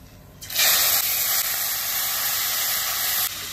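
Fish laid into hot mustard oil seasoned with cumin, bay leaf and dried chilli set off a loud, steady frying sizzle that starts abruptly and holds as a continuous hiss, close by, with no talking.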